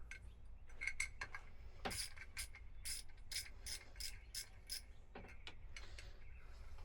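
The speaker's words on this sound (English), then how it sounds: "we're going to take a 6mm and undo the 2 keeper nuts for the cable keeper" A 6mm wrench loosens keeper nuts on a Catalina 22 keel cable, giving a faint series of close, crisp ratcheting clicks and small metallic ticks in short bursts over quiet background.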